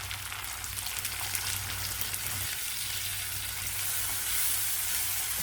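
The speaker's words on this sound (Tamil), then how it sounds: "சோம்பு அடித்ததும் வெங்காயம் சேர்த்துக்கலாம் கருவேப்பிலை தக்காளி சேர்த்து வரக்கலாம்" Onions, curry leaves and tomato fry with fennel seeds in hot oil for a potato and peas masala, giving a dense, continuous crackling sizzle that stays loud and even throughout, with no voices.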